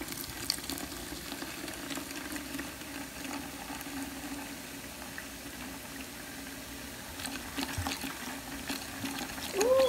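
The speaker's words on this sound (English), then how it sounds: "I just love the sound of that fizz" Raspberry ginger ale being poured into a fruit cocktail drink, giving a steady, soft fizzing and bubbling hiss that runs evenly throughout, close by and fairly quiet, with a few small clinks and no talking.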